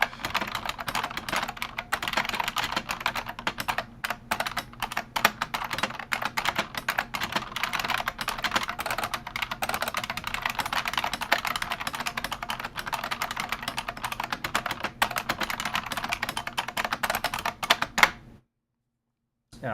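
Rapid, continuous clatter of keys on a computer keyboard, typing code-like symbols in a TypeRacer race, dense and close up for most of the stretch before cutting to silence.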